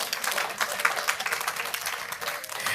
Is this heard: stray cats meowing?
no